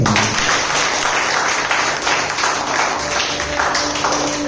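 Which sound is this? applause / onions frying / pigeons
applause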